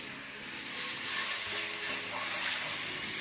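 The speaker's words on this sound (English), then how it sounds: "All I want just melt butter." About two tablespoons of butter melt in an overheated pan with a steady, close, loud sizzle that swells slightly, and no voices.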